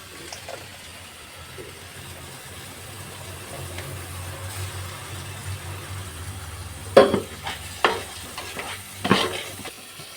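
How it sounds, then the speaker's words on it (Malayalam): Green chilies and tomato paste fry in a pan with a steady low sizzle, and a few sharp scraping stirs clatter near the end. "നമുക്കിനി പച്ചമുളക് ഇട്ടെടുത്തു. അപ്പോൾ ഇതിലെ പച്ചമുളകൊക്കെ മാറിയിട്ട് നമുക്കിനി തക്കാളി പേസ്റ്റ് ഇട്ടെടുക്കാം."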